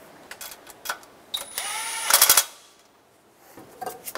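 Ratchet or power tool tightening a bolt on the engine bracket of a 2000-2006 Toyota Tundra during knock sensor replacement: a burst of rapid mechanical clicking and whirring near the middle, with scattered tool clinks before and after.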